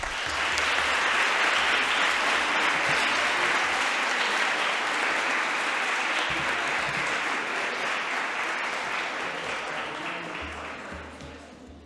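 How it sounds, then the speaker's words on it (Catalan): Loud, sustained applause from a school awards ceremony audience at the Jocs Florals Escolars in Lleida, a dense continuous wash of many hands clapping that holds strong for most of the stretch before tapering off slightly at the end. "Des d'aquí us fem arribar a través de l'hiperespai l'enhorabona i també un fort aplaudiment."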